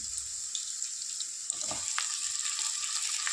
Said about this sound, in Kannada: ಬದನೆಕಾಯಿ ಎಲ್ಲನೂ ಬಿಡೋಣ ಇದಕ್ಕೆ